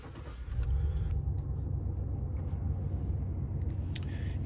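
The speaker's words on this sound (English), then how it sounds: "You can't beat the sound of that V8. It is really nice. It's not too loud, but beautiful sound." Toyota Land Cruiser VX 200 V8 catching with a brief surge, then settling into a steady, smooth low rumble of idle, fairly quiet and close.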